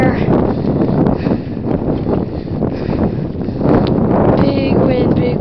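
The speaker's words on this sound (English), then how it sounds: "big wind right there" Strong gusty wind buffets the microphone during a ride in heavy rain, a loud, continuous rushing roar that swells and eases, with a voice faintly mixed into it.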